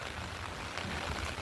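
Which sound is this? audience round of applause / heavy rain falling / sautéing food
heavy rain falling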